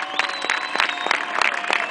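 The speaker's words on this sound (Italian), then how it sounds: "Un applauso per tutta la piazza," Outdoor crowd in Piazza Castello, Turin, clapping at a street protest rally, a dense patter of hand claps with scattered sharper bursts and some voices mixed in, moderately loud throughout.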